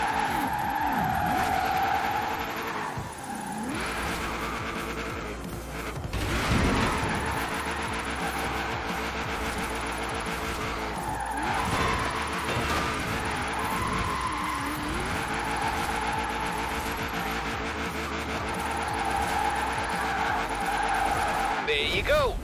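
Car drifting in Forza Horizon 4 in Edinburgh, with the engine revving hard and tires skidding in long screeching slides that rise and fall, while a voice speaks over parts of it.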